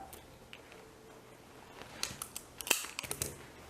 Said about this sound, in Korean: 이렇게 좀 달린 애들은 깨끗하게 가위로 제거를 하시고요